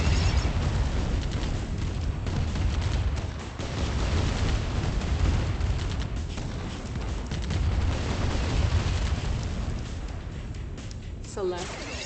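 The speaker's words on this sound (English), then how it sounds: "Nuclear warhead approaching. Our base is under attack." Nuclear warhead explosion in the Command & Conquer Remastered GDI campaign: a sustained, loud rumbling blast with heavy low-end roar and crackling debris lasting the whole stretch, with game voice announcements over it.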